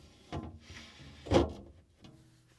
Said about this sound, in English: now the glass shelf goes in